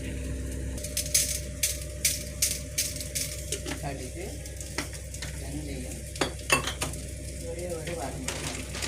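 Curry leaves crackle and sizzle in hot tempering oil for rasam while a spoon clinks repeatedly against the pan, with a voice talking faintly.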